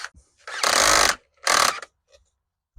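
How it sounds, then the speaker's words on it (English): A power drill with an extended bit bores into a 1971 Volkswagen Super Beetle during heater channel removal, running in two loud close bursts of about a second and half a second, separated by a brief pause, with a faint voice at the start. "Let me see if I can extend this drill bit a little bit more."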